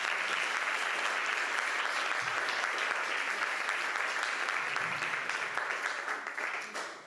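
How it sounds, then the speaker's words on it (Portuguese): A crowd at a stand-up comedy show claps steadily, a dense even roar of applause from the room that holds for several seconds before easing slightly at the end. "Faz favor, uma salva de palmas."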